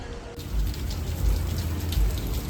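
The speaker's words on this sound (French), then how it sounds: "Bon, il pleut, mais ça va." Evening rain during the rainy season in Phuket, Thailand, a steady close hiss of falling drops with soft low thuds pulsing underneath for a couple of seconds.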